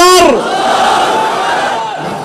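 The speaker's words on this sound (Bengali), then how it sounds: "তাকবীর আল্লাহু আকবার আল্লাহু আকবার" A large crowd at a religious gathering answers a takbir call with a loud unified chant of "Allahu Akbar". A single voice leads, and massed voices follow in a sustained, echoing roar.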